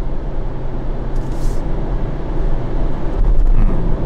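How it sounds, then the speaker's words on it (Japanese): Inside the cabin of a new Honda Step WGN minivan climbing a mountain road at about 2000 rpm, a low, subdued engine hum blends with road rumble, steady and muted throughout. "エンジン音も静かですよね。"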